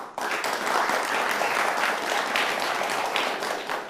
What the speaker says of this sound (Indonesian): Tepuk tangan buat Kang Ferry